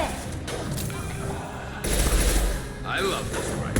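Rifle gunfire in Mass Effect 2, a steady stream of loud, rapid shots that keeps going and thickens partway through.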